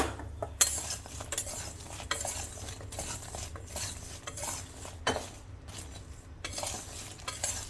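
Spiced potatoes stirred in a pan with coriander, red chilli and cumin powder for Sindhi fried aloo, giving a steady run of scraping spoon strokes and light metallic clinks over a faint sizzle, with no talking.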